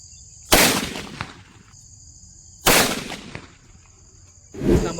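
Lakshmi firecrackers tied in a string burst outdoors in a village: three sharp, loud bangs spaced about two seconds apart, each with a short crackling tail, over steady insect chirping.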